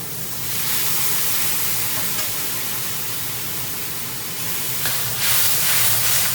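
Broth poured into a hot wok of stir-fried green peppers and bean strips, made while cooking a Dongpo-style pork knuckle, gives a steady, loud sizzling hiss that holds throughout and swells toward the end.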